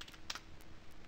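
Quick keystrokes on a computer keyboard, a short burst of a few soft taps close by with light clicks, quiet and free of speech.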